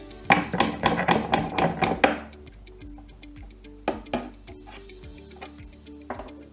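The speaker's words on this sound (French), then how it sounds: "Chassez la goupille à l'aide d'un marteau." A hammer drives a pin out of a Metabo BAS 318 Precision WNB band saw in a rapid burst of sharp metallic taps, followed by a few scattered single strikes.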